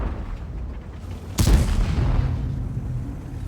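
A single cannon shot from a Type 61 tank in World of Tanks on the Live Oaks map, a sharp, loud boom followed by a rumbling tail over a steady engine hum.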